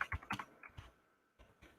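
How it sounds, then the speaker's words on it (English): Fingers type on a computer keyboard in a quick burst of clicky keystrokes, then a short pause and a couple more taps, close and fairly quiet with no speech. "I'm not typing it properly, but here we go."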